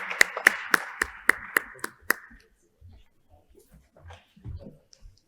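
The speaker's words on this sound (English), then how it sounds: "a big round of applause for our esteemed panelists and the session chair" Sparse hand claps from a small group after a conference panel session on Shariah-compliant banking, a few sharp, nearby claps for about two seconds, then quiet room noise and faint movement.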